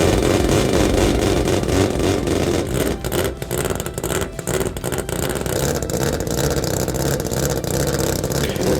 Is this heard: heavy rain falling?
no